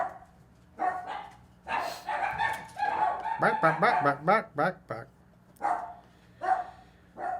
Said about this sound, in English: I got dogs at one end of the hallway and another, and then they all like start barking at each other